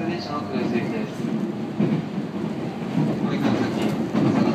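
A 719 series local train on the Tohoku Main Line runs at speed, heard from inside the carriage as a steady rumble with rhythmic rail clatter, while an onboard announcement plays over it.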